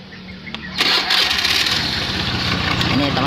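An automatic scooter with a faulty CVT and overly heavy rollers starts and runs with a rough, rattling idle, loud and close, with a faint voice underneath.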